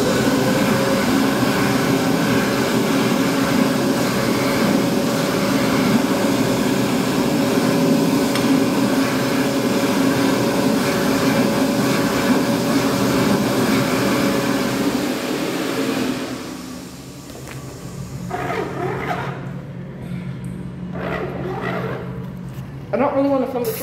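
A Bobrick B-700 Aircraft hand dryer in a washroom runs as a loud, steady blowing roar that cuts off near the end, leaving quieter room noise with a few faint knocks.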